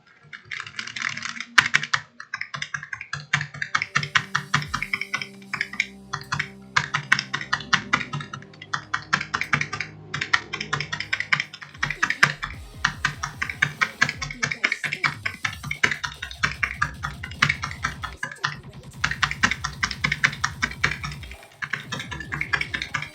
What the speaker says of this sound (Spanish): Ah, el teclado.